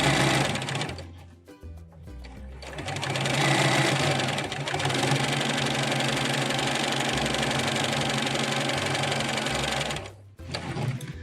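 A sewing machine runs steadily for a long stretch while stitching the edges of a grocery tote bag, with brief pauses near the start and a stop near the end.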